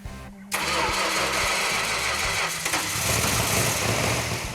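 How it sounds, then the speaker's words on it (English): A 383 engine in a 1971 Dodge Challenger R/T cranks briefly, catches, and fires into a loud, close, lumpy idle that holds steady, with a short blip about two seconds later. "helping Mike and Mark ready the 383 engine and drivetrain for Buck's 71 Challenger RT. Go ahead."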